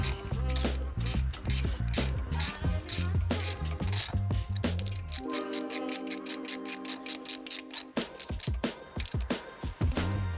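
A ratchet tightening the rocker box bolts on a Harley Davidson motorcycle, loud rapid clicking in repeated bursts with short pauses, close up, with a brief smoother whir midway.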